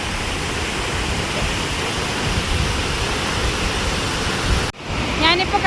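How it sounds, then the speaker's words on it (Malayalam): A steady, dense roar of falling water from a forest waterfall near Konnakkad in Kasaragod, broad and unbroken, with a short break near the end followed by a faint voice. "നല്ലൊരു വെള്ളച്ചാട്ടം തന്നെയാണ്"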